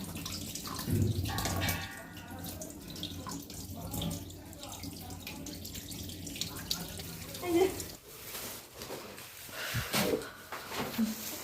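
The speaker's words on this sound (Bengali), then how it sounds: "ধুয়ে রেখে হাতে ভালো করে সাবান দিয়ে" Tap water runs steadily into a sink as hands are washed with soap, a continuous close splashing flow with dripping and small clatters, while someone speaks over it at times.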